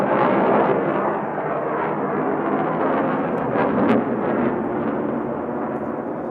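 A Lockheed F-35B fighter jet flies at the Fleet Week 2023 airshow, a loud, steady, rumbling roar that holds for several seconds with a slight swell near the middle and no voices.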